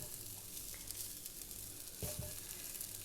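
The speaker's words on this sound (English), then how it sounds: "I'm just going to wait and fry my rice a little bit" Rice grains frying in oil for spring onion rice, a soft continuous sizzle and crackle heard faintly and close, with a couple of light knocks of a utensil partway through and no talking.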